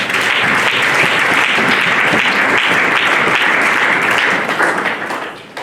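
Church congregation applauding, loud, dense and steady clapping throughout that tapers off at the very end.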